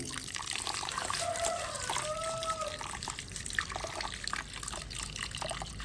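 Dal lentils being rinsed in water for a bottle gourd dhal curry, a soft continuous sloshing and trickling with light swishes and faint tonal ringing, fairly quiet and close, with no voices.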